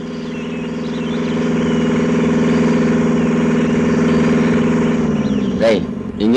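A car engine idles while overheated, its radiator low on water. A steady, close, low droning hum holds throughout, and a brief voice cuts in near the end.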